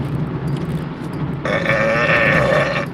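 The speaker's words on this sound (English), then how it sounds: "I'm so sorry about all the belches. It's this damn caffeinated drink." A loud, drawn-out belch after a caffeinated drink, rising suddenly halfway through and holding for over a second, with a steady low rumble of a car driving on the road underneath.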